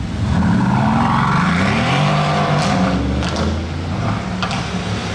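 An Audi RS6 drives up a busy street among passing cars, producing a loud, close, continuous engine rumble and roar that swells and shifts over the traffic noise.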